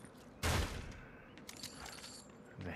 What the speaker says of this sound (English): The hand cannon.